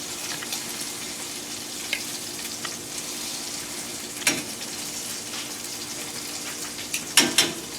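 Steak searing in a hot pan, a faint steady sizzle with a few louder crackles and spits, heard on its own without talk.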